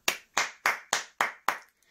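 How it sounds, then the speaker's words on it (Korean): Six crisp, close hand claps land at a steady quick pace, each sharp with a brief tail, with no other sound around them. "여러분, 우선 박수 한번 주세요."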